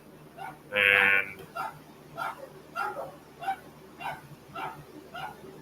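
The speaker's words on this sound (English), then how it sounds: "excuse my dogs out there barking" Dogs bark outdoors at a moderate distance: one louder yelping bark, then a series of quieter, evenly spaced barks, with a brief spoken word at the start.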